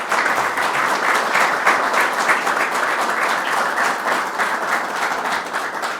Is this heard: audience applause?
yes